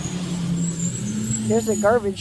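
A loud garbage truck idles and rumbles nearby on a rainy day, a steady low engine drone throughout, with a person starting to talk over it near the end.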